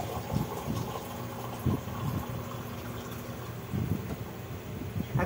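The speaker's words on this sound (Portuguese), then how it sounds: "Agora vamos botar um pouco de água" Water being poured into a cooking pot for a fish moqueca, a soft gushing trickle that swells in a few short bursts, close and fairly quiet.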